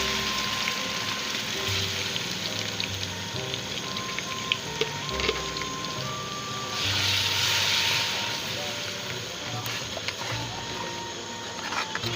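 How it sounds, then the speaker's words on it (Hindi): Tomato, onion and green chili paste frying in a pan for a desi tinda and chicken liver curry, a steady close sizzle running throughout with a swell in the middle. "ये टमाटर प्याज सब्ज़ मिर्ची फ्राई हो गई"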